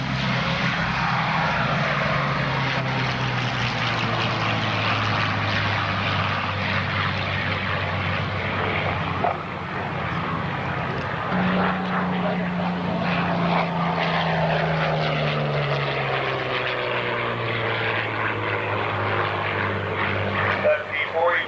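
A P-40 warbird fighter plane flies over an airshow, its propeller engine droning loudly and steadily with a slowly shifting pitch as it passes. Crowd and announcer sounds are mixed in throughout.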